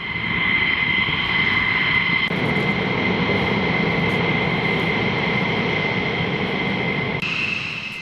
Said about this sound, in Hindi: इजरायली जेट्स जिन्होंने उड़ान भरी इजरायली एयरबेस से